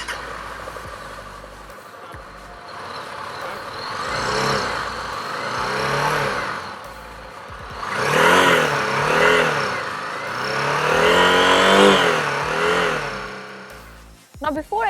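A Honda CB300F motorcycle engine idles, then revs up in several rising bursts, growing louder toward the end before cutting off.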